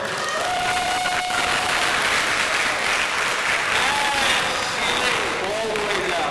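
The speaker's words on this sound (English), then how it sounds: "A round of applause." Audience applause at a hypnotist's show during a school graduation event, a dense, continuous wash of clapping with some cheering that runs steadily throughout, with voices faintly mixed in.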